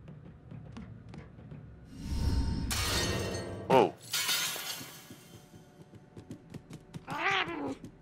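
A cat meows in the video game Murdered: Soul Suspect, a short wavering cry near the end, following a loud crash and breaking noises in the game's soundtrack.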